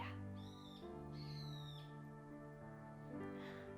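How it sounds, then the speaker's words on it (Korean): Birds chirp and call outdoors near a garden by an open-air yoga studio, short rising tweets repeating a few times over a faint steady background hum, soft and somewhat distant. "지금 계속 새가 지저귀는데 여기가 야외 스튜디오예요."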